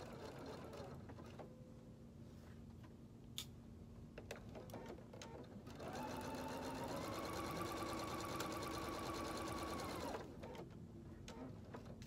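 Sewing machine stitching a T-shirt, a steady mechanical whir that starts around six seconds and runs about four seconds before stopping, with quieter handling sounds before and after.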